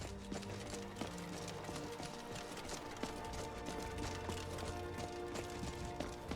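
A horse's hooves clip-clopping in the Skyrim video game, a steady trotting rhythm of soft thuds running throughout at moderate level under ambient game sound.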